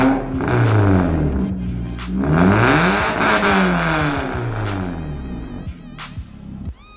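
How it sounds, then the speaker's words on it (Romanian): A VW Bora 1.6 16-valve petrol engine revs repeatedly through a 63 mm stainless steel exhaust with a sport tailpipe, giving loud rising and falling sweeps with a deep throaty tone, heard alone with no talk. "Am continuat cu o evacuare pe 63 de inox cu finală sport."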